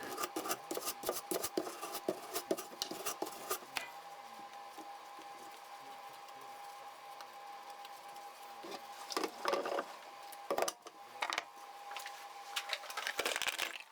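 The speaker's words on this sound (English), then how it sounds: "I use a wire brush to gently scrub through the bristles in the same direction from the ferrule up toward the tip" A wire brush scrubs through the dried, hardened paint in a paint brush's bristles, giving close raspy scraping strokes that come in quick repeated bursts at the start and end, with a softer stretch in between.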